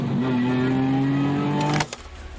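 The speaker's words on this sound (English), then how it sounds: "we've specifically engineered the noise we want for the bespoke exhaust system" A Ferrari 250 GT SWB restomod with a bespoke exhaust holds a steady engine drone with clear harmonic tones, then cuts off abruptly near the end, leaving a few faint clicks.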